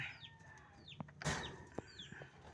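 Quiet farmyard clucking from a chicken, a few short low clucks with faint bird chirps and a brief rustle in between.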